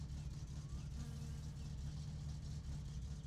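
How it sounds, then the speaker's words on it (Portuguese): Cars in the video game My Summer Car drive with a steady, continuous mid-range engine drone, fairly quiet and constant throughout, with no distinct revving peaks. "Eu vou ouvir os carros daqui, mano."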